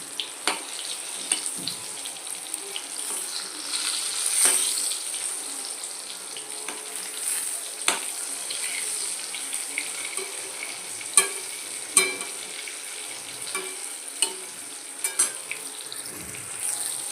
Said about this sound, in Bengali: দেখো ভাজা ভাজা মতো হয়ে যাচ্ছে।